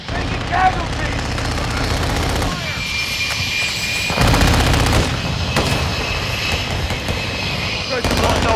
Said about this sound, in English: There's a hostile VTOL in the area.